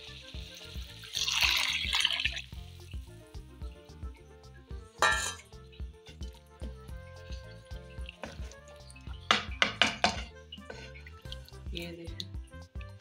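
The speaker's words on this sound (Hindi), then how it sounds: "अब इसमें जाएगा पानी।" Water is poured into a pot of boiled, soaked chana dal, a splashing pour followed by clinks of a utensil against the pot and scattered drips, with someone speaking at times.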